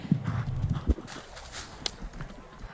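A brave event horse's hooves pound through the sunken road on a cross-country eventing course, with a quick run of close, heavy thuds followed by a few lighter, scattered hoof strikes.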